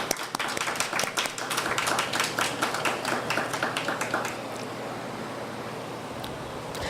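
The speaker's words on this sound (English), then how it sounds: "I would like to give them a round of applause" Audience applause for a city police department at a community conversation event, a dense wash of many hands clapping that fades to a quieter tail after a few seconds.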